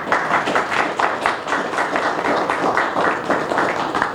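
A seated audience at a West Palm Beach city business recovery assistance meeting applauds the city administrator, steady dense clapping held loud and close for a few seconds with no voices.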